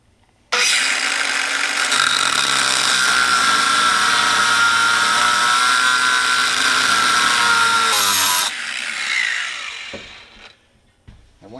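A power tool, likely a grinder, cuts at an angle into the pitted inner race of a bearing on a Bobcat 743 skid steer axle. It runs as one loud, steady whine for about eight seconds, then winds down with a few faint clinks.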